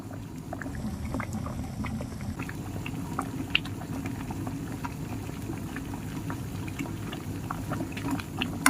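A neem soap mixture bubbles steadily in a pan over a gas flame, a continuous low rolling boil with scattered small pops and bursts, close and moderately loud throughout.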